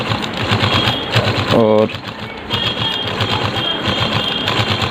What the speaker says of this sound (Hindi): तो चलिए सबसे पहले हम सिलाई करते हैं, ये डबल कपड़े पे, नॉर्मल कपड़े पे।